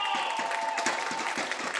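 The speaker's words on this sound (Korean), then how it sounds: "응원단의 힘찬 박수" A cheering squad at a women's football match between Suwon FMC and Seoul City Hall claps in quick rhythmic bursts, roughly five or six strong claps over a steady crowd murmur in a stadium.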